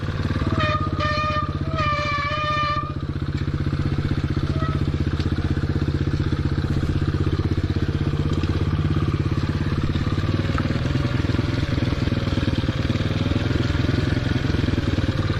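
Small 2015 Motoped Pro 90cc motorbike engine running steadily and loud throughout, a constant rough drone with a brief higher whine near the start, no talk.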